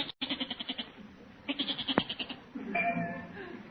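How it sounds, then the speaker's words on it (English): A goat bleats several times from inside a neighbor's garage, its wavering, nasal cries coming close and loud in short bursts, with a voice talking in between. "Holy smokes, a goat."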